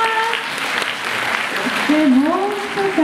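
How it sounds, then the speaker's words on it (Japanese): Audience applause at a Japanese community event, a dense continuous clapping wash from a crowd, loud and close, with a voice speaking over it. "拍手お願いします"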